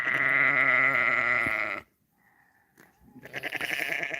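Lambs bleat in a sheep pen, one loud, long, close wavering bleat, a short near-silent gap, then further shorter bleats starting up.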